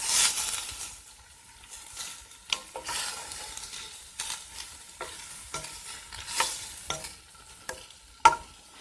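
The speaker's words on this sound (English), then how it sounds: "let it cook for about like few minutes, 3 to 4 minutes, until the tomato release a little bit of juice" Chopped tomato pieces frying in a pan for an Italian lasagna sauce, a steady soft sizzle with repeated scraping stirs of a spoon, close and alone with no talk.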